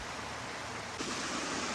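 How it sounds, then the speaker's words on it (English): A waterfall on the Matilija Falls Trail in Los Padres National Forest rushes steadily nearby, a dense broadband roar of falling water that swells slightly midway, with no talk. "And there is the waterfall."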